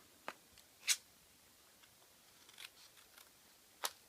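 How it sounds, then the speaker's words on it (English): Scissors trim the outside edges of a paper window-frame gate-fold card, with a few faint, crisp snips spaced irregularly against near silence. "So finally, you want to take these outside edges and trim those off."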